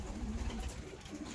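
Fancy Posta Bango show pigeons coo softly and low, a faint, continuous murmuring close by with no voices.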